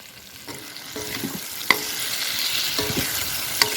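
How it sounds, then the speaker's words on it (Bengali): Potatoes frying in a pan with salt and turmeric, a steady close sizzle with occasional scrapes and clinks of a stirring utensil against the pan, and no voices. "এটাতেই ডালের জন্য আলু ভাজা করবো সেই আলু ভাজাটা বসিয়ে দিচ্ছি"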